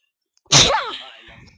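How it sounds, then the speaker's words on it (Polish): A single loud, close human sneeze with a sharp burst and trailing exhale, alone with no talk. "Poczekajcie widowie, muszę se kichnąć."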